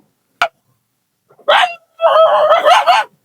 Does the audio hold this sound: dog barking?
yes